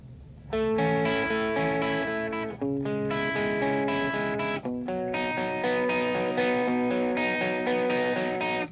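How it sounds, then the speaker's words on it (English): Electric guitar plays sustained chords through heavy distortion, a few ringing strummed sections separated by brief cuts, loud and close with no voices. "A little plain roar before you kick on the distortion again."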